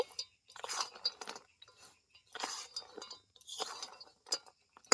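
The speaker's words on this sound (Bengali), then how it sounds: "এটাকে এইভাবে মেশাতে মেশাতে চিনিগুলো একদম শুকনো হয়ে যাবে" Fried kathi gaja pastries being stirred in thickening sugar syrup as the sugar dries onto them, heard as close crunchy scraping and rustling in several separate bursts with short quiet gaps between.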